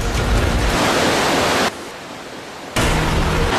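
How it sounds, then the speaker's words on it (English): River rushing through a cave, a loud broadband roar of flowing water that drops away briefly in the middle before returning just as strongly. "this river actually runs throughout the entire cave"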